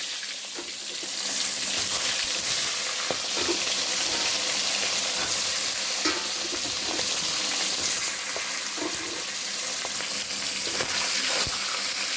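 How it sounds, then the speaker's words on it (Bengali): Catla fish head frying in a pan, a dense, loud, steady crackling sizzle of hot oil with occasional faint knocks, heard up close and without voices. "মাছের মাথা ভাজা হয়ে গেছে"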